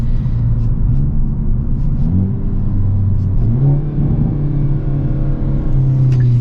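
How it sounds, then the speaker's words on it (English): A 2022 Hyundai Elantra N engine is heard from inside the car while downshifting, a loud, steady low rumble with rising and falling pitch as revs change, continuous throughout with no talking. "And downshifting to the first gear is not jerky at all."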